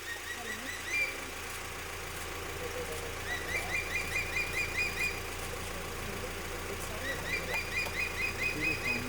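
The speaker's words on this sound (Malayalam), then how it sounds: "ഒരു പക്ഷേ ഈ ഭക്ഷണം കഴിക്കുന്നതിലുള്ള സന്തോഷത്തിനായിരിക്കണം ഈ പക്ഷി ഇങ്ങനെ സൗണ്ട് ഉണ്ടാക്കുന്നത്" A changeable hawk-eagle perched in a tree in the Kabini forest of Nagarhole Tiger Reserve gives repeated high, thin calls in quick bursts while it feeds on a monitor lizard, over the steady low hum of an idling vehicle engine.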